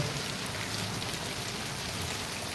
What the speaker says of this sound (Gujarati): અત્યારે વરસાદ ગોંડલની અંદરમાં ધોધમાર ચાલુ છે